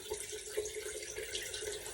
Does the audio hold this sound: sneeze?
no